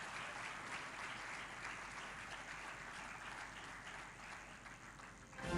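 Sustained applause from an audience welcoming SP Bhavna Gupta, police superintendent of Bemetara, onto the stage at the IBC24 Swarna Sharda Scholarship 2023 event; a steady, dense clapping that lasts throughout with no talk.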